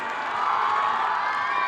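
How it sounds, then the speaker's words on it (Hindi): Schoolchildren at a school performance in Patna cheer and clap for a teacher, a loud, continuous burst of shouting voices and applause from a large young crowd. "जोरदार तालियां बच्चों गुप्ता सर के लिए"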